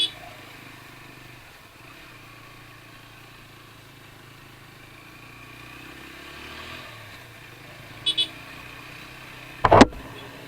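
Motorcycles carrying bikers pass along a road as a faint, distant engine drone. A couple of brief clatters stand out, with some talk in the background.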